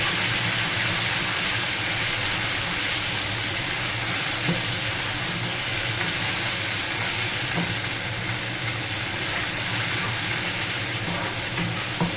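Steady, dense sizzling of curry leaves, garlic, green chilli and onion frying in hot oil as a tempering, continuing evenly throughout with no talking.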